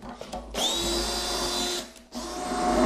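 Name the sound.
screw being driven in with a power screwdriver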